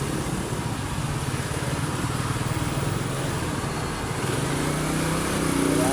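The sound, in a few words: motorcycle approaching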